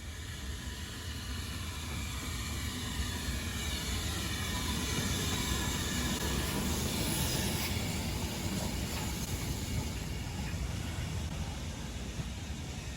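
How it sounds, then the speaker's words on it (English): A heritage steam train runs along an old line across the Yorkshire moors, heard as a steady, fairly faint broadband hiss and rumble with no voices. "Beautiful old steam line that runs right through the heart of the Yorkshire moors."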